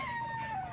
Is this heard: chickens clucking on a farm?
yes